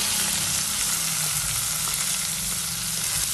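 Two medium finely chopped onions frying in a pan with asafoetida for a dhaba-style spicy okra dish, a steady, dense, close sizzle continuing without pause or talk.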